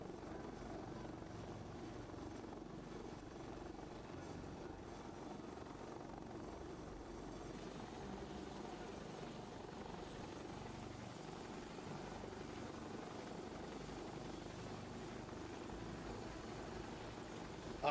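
Steady helicopter rotor and engine drone on a helicopter cruise over Corsica, continuous and unvarying for the whole stretch, heard from inside the cabin.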